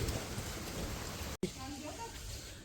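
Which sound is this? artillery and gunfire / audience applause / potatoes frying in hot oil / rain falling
rain falling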